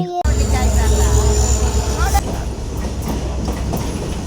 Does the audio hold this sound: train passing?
yes